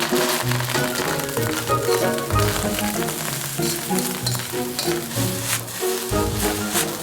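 Prawn fried rice with spring onion greens sizzles steadily in a hot pan, with repeated scraping and tossing strokes over a loud, continuous frying hiss, and no voices.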